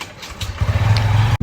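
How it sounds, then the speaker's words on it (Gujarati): A motorcycle engine catches and sputters into a brief rough idle, a short burst of low throbbing pulses close by that cuts off abruptly after about a second. "બાઈક લઈને જઈએ"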